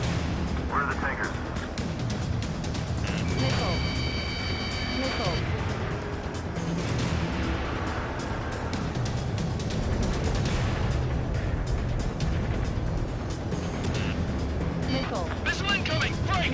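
In the Ace Combat 7 pipeline destruction mission, jet combat rumbles with bursts of gunfire, missile launches and explosions under a steady engine roar, with radio voices talking over the action.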